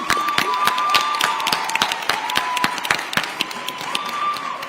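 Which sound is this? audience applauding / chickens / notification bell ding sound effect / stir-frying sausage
audience applauding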